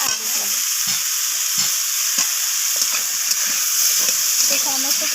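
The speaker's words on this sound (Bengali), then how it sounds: "তো কুমড়োগুলোকে দিয়ে আমি আবারও নাড়াচাড়া করে ভেজে নিচ্ছি এইভাবে" Pumpkin and potato pieces stirred and fried in a pan: a loud, continuous hiss of frying, broken by repeated scraping knocks of the spoon as the vegetables are turned.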